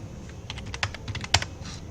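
Short burst of computer keyboard typing as values are entered into a C program, with several separate close keystrokes and one sharper clack near the end, no voices.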